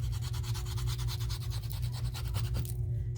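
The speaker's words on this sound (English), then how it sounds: "I'm using the edge of my sandpaper, and I'm going to" Sandpaper edge rubbing along the edges of leather Birkenstock sandal straps, a steady, close, fast back-and-forth scratching with regular strokes that stops abruptly near the end.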